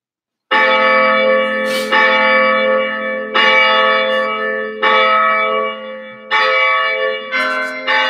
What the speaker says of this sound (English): playing those amazing bells at St. Mary's Abbey in Waterford in Ireland